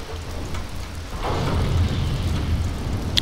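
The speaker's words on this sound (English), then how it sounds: "There's an explosion." An explosion in the online war game Heroes and Generals rumbles in from a distance, a low rolling boom that swells midway and lingers over a steady battlefield ambience, with a sharp crack near the end.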